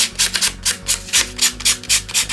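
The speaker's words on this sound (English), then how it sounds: "I just sand the edges around with my COUTURE Creations sanding block" Cardstock edges rubbed with a Couture Creations sanding block, about ten rhythmic scratchy back-and-forth strokes, close and steady with no talking.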